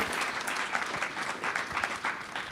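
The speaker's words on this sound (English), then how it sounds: "Let's give Travis one more round of applause" An audience applauds a speaker after a conference talk, with steady, fairly distant clapping that carries on evenly for a few seconds with no voices over it.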